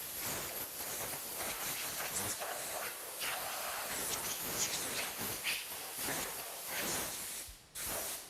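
Compressed air blasts sanding dust off a fiberglass car audio hatch enclosure, a loud continuous hiss with pulsing bursts that cuts off sharply near the end before resuming.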